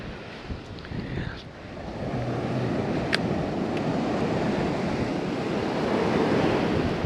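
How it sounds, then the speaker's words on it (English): Ocean waves breaking on the shore at Cape Cod, a building roar of surf that swells after a quieter start and holds steady, with wind buffeting the microphone. "They got some good waves."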